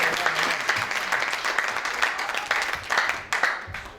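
A church congregation applauds and cheers during a sermon, a dense, steady wash of many hands clapping at close range that lasts the whole four seconds.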